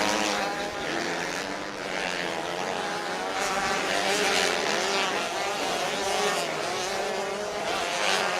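Junior 250 motorcycles, a KTM chasing a leading Yamaha, roar along a beach enduro track in a steady, dense engine drone with rising and falling revs throughout.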